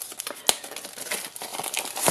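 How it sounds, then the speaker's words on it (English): Cellophane packaging crumpled by hand while unboxing a paper craft kit, close crisp crinkling with a sharp crackle near the start and rustling that builds toward the end. "Cellophane in the bin."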